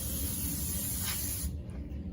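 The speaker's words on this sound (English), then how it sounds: "So we're going to spray all this down with Brākleen." An aerosol can of Brakleen brake cleaner sprays onto car brakes in one loud, continuous hiss lasting about a second and a half, then cuts off.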